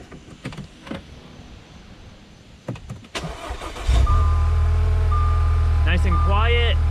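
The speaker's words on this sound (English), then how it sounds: "here's a good little startup for you guys" A freshly rebuilt Audi engine cranks and starts, then settles into a steady idle with a whirring electric tone; a few quiet clicks and knocks come first.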